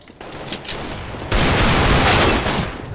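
Rapid bursts of automatic gunfire in a shooter video game: a few sharp shots, then a dense, loud, sustained fusillade that tails off toward the end, with no speech.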